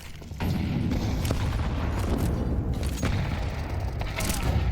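A Counter-Strike grenade goes off early, giving way to a dense, steady rumble of in-game noise with faint clicks and shots, as a caster talks over the match action throughout.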